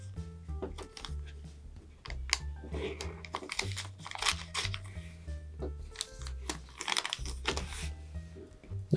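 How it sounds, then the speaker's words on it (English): A paper square being folded into origami, with repeated crisp crinkles, rustles and creasing scrapes in an irregular rhythm, close and moderately loud, no talking. "Next we'll bring this crease up to the next one"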